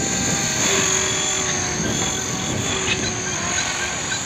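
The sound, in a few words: Hobbyking RC model helicopter flying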